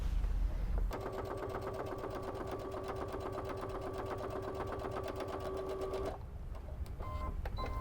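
A sewing machine runs in one continuous burst of about five seconds, stitching fabric strips together with a 1/4 inch seam for a two-colour quilt binding. The rapid, even needle rattle sits close, with quieter handling before and after and no talk.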